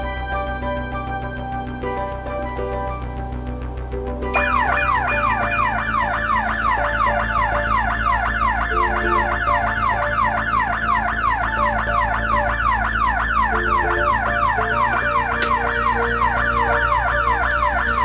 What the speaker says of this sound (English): It should set off the siren and the strobe light at the same time.